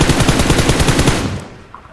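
Rapid automatic gunfire crackles in a mobile shooter game crossfire, loud bursts repeating for over a second before cutting off into faint background noise.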